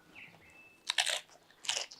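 BBQ nachos with crunchy corn chips are bitten and chewed up close, two sharp bursts of crunching about a second apart after a quiet start, with no talk.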